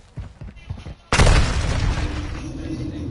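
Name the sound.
precision airstrike explosions in a video game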